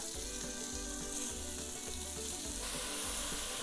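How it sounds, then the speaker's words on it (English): Black bear meat sizzles steadily in hot olive oil in a pan, a close, crackling fry with a few soft pops, continuous and alone. "Once it's hot, we want to brown this meat."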